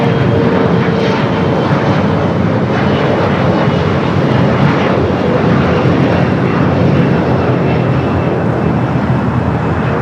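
A Boeing 787-9 Dreamliner arriving from Tokyo lands at LAX with a loud, close, sustained engine roar that stays strong and steady throughout.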